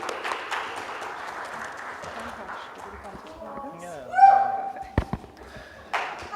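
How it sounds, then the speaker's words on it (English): Audience applause greets a speaker at a corporate digital advertising report launch, thinning out over a few seconds before a voice begins talking, with scattered taps and a brief burst near the end. "Ladies and gentlemen, a warm, warm round of applause."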